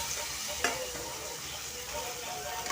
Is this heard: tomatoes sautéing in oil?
yes